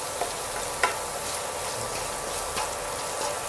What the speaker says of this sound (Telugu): ఈ మొత్తం ఈ మసాలాలు మొత్తాన్ని మన ఆనియన్లోకి చొచ్చుకుపోయేలాగా నెమ్మదిగా తిప్పుతూ ఉండాలి